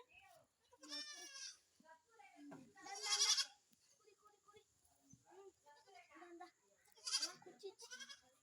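Young goats bleat repeatedly in high, wavering cries, with people talking softly in between.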